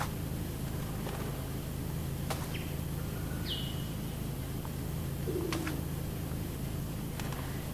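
Ambient birdsong from a PowerWash Simulator game level: a few sparse chirps and whistles spread apart over a steady low background hum, with no music and no talking.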